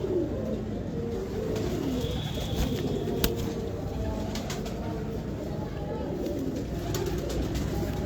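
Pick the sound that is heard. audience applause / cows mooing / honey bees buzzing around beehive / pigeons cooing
pigeons cooing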